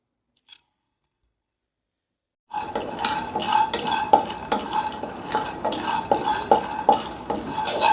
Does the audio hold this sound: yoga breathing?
no